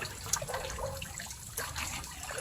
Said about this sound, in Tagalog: yung tubig dito ay nagmumula sa running water